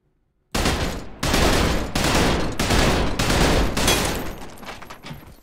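Bursts of heavy gunfire in a video game aimed at an armored Dozer enemy, after a moment of silence a loud, rapid volley of shots in several tight bursts that tapers off at the end.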